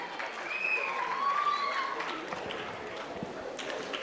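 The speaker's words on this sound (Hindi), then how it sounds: "एक बार जोरदार तालियों के साथ हम उनका स्वागत करेंगे।" Audience applause at a foundation's tenth anniversary event welcomes a speaker to the stage, a moderate wash of clapping that gradually eases, with a faint voice briefly audible.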